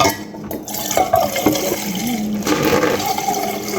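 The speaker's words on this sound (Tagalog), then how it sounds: "Lagyan natin ng tubig." Tap water running into a vase for a bunch of red roses, a steady close splashing and gurgling fill that gradually rises in pitch as the vessel fills, with no talking.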